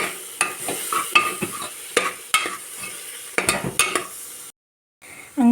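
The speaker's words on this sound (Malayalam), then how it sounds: "ഇതിലേക്ക് നമ്മൾ ചിക്കൻ മസാല കൂടെ ചേർക്കുക. ഇനി നമുക്ക് ഈ ഇളക്കി കൊടുക്കാം." Spoon scraping and stirring turmeric and chicken masala as they fry in a pan for tomato rice: a string of sharp scrapes and sizzles, close and clear, then a short gap before a final clatter.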